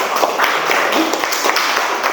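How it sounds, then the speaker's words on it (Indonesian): Steady, close applause from a classroom of students during a lesson, a continuous patter of many hands clapping at a fairly loud level, with a few voices mixed in. "Jadi tepuk tangan untuk kita semua."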